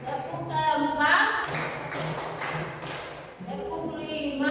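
A class of children stands and claps a rhythmic spirit clap in a classroom, with sharp hand taps under loud, continuous chanting and talking voices.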